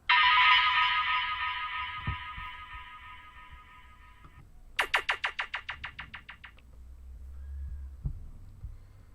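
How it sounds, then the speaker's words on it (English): Classic garage dub siren effects: a loud sustained electronic wail fades away, then a burst of fast pulsing siren bleeps follows, with low thumps underneath. "We've then got your classic garage dub sirens."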